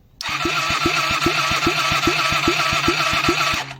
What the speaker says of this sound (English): we wanted to see if this thing will crank